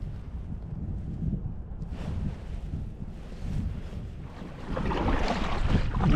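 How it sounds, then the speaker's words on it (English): Strong wind buffets the microphone on a cold day of kayaking and bass fishing, a steady low rumbling roar that swells louder toward the end, with faint water and boat sounds mixed in. "It's so windy today."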